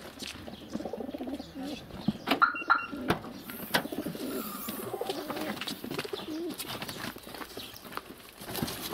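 Pigeons cooing and shuffling as about ten birds are packed by hand into a transport box, soft coos and wing flutters mixed with scraping and handling noises close by, continuing steadily throughout.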